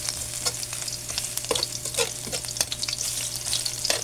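Chopped garlic frying in a pan until golden brown, a steady close sizzle and crackle with occasional stirring scrapes, no voices.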